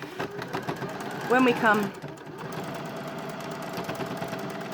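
A sewing machine basts bunny hood ears in place, a short burst of rapid mechanical stitching while a voice talks throughout.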